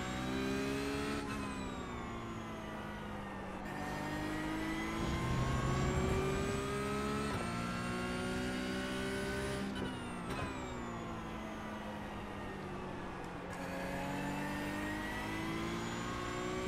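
Porsche Cup race cars lap Brands Hatch in the iRacing sim, engine tones rising through the gears and dropping sharply at several shifts, a steady onboard whine and roar with no talking.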